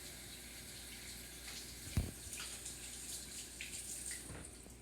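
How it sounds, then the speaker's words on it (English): Water running from a kitchen tap during handwashing before baking, a steady soft splashing stream with a brief knock partway through, fairly faint and alone. "we have to wash our hands to make sure that our food is clean and safe"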